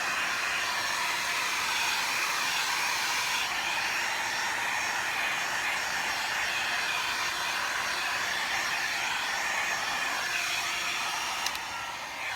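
A hair dryer set on high blows steadily across wet acrylic pour paint, a continuous loud whooshing roar that holds unchanged from start to finish with no voices.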